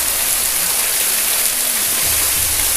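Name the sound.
waterfall heard from inside Linn Caves, Scotland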